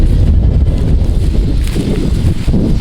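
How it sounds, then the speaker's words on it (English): Strong wind buffets the microphone in a steady low rumble, with gusty swells and faint rustling throughout. "I know it's super windy."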